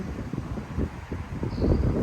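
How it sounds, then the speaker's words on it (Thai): Dry wind gusts in rough, uneven bursts against the microphone outdoors, a low rumbling buffet that swells and eases across the moment, with no voices. "มันลม"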